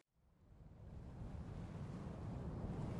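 A ship cuts through cold Antarctic ocean waters off the Antarctic Peninsula, heard as a faint, steadily building wash of surf and wind noise that swells within the first second and then holds as a continuous rushing roar.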